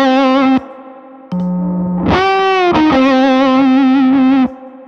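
Distorted electric guitar through a fuzz pedal: sustained buzzy notes, a short pause, then a held chord that bends and rings loudly before cutting off.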